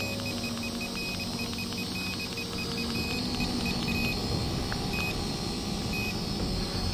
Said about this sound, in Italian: Questo bip che sentite è perché è attiva la funzione